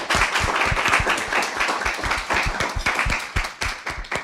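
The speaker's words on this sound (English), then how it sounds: "Let's give everyone a round of applause." Applause from an audience at a live-streamed group session, dense overlapping claps with some louder close hand strikes, steady and fairly loud across the whole stretch, fading slightly toward the end.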